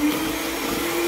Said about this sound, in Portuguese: Eu vou usar uma batedeira.